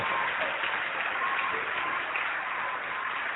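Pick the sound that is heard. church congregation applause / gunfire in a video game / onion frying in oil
church congregation applause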